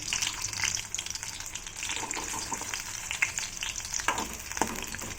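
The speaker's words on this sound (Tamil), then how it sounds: "இப்போ இதே எண்ணெயில் நம்ம எடுத்து வச்சுருக்க வெங்காயத்தை போட்டுக்கலாம் கொஞ்சமாக வெள்ளைப்பூடு சேர்த்துக்கலாம்" Sliced onions and a little garlic sizzle steadily in hot oil in a pan, a continuous close crackle with occasional stirring scrapes and no talking.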